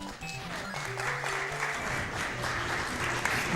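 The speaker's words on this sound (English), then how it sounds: "Why everybody clapping for?" Audience at a Summer Games Done Quick speedrun event of Sonic the Hedgehog: Triple Trouble applauding steadily, a dense wash of clapping filling the room over game music for several seconds.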